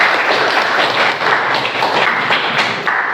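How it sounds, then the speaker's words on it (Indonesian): A class of vocational high school students claps briefly in a classroom, a close, loud burst of uneven hand claps with distinct individual thuds, lasting a few seconds. "Tepuk tangan."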